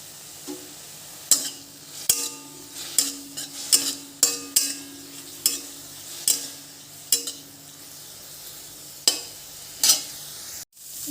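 Khraman leaves frying in mustard oil with a steady sizzle while a spoon or spatula scrapes and clinks against the pan in repeated strokes, up close, with no talk.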